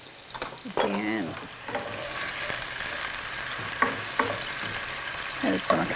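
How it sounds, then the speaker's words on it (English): Pieces of meat fry in fat in a pan, a continuous close hiss and crackle with occasional scraping stirs and clinks from a utensil. "get that good sizzle on there"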